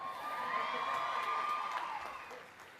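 A graduation audience at an agriculture college commencement claps and cheers, a fairly faint, distant swell of applause with scattered whoops that tapers off near the end.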